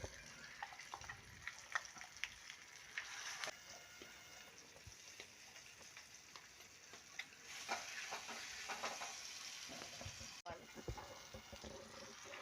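Ground gongura chutney is added to hot oil tempered with dried red chillies, curry leaves and turmeric, crackling in a steady sizzle while a spoon stirs and scrapes in the pan, with a few louder clinks.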